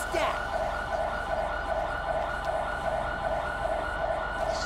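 A GTA V ambulance siren, LSPDFR mod, cycles steadily and loudly after a brief sharp sound at the start, sustained over a low rumble; a voice speaks briefly near the beginning.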